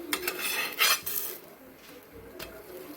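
A banana pancake being flipped in a pan, heard as a few close metallic scrapes and clicks of a spatula against the pan, followed by a quiet sizzle.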